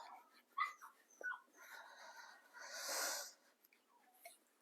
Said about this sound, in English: the puppy's crying